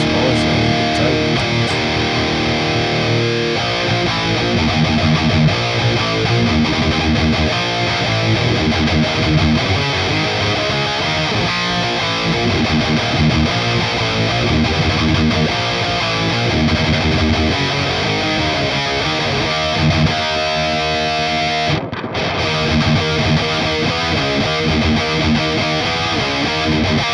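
Distorted electric guitar played through an EVH Mini 15-watt head preset, a dense, saturated riff with chugging rhythm that runs continuously and loud, broken by a brief cut near the end.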